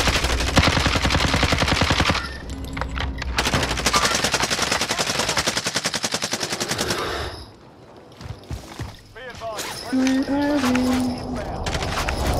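Rapid automatic gunfire bursts in the video game Warzone, loud and close, with dense crackling volleys in the first seconds, a pause, then further shots; voices talk intermittently.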